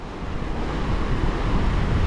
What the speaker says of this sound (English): on that side of the Cape is all open ocean